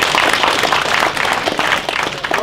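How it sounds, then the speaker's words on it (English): Audience at a Super Saturday gathering applauding new attendees, a dense, steady wash of many hands clapping at close range with no pauses. "give yourself a round of applause for being here"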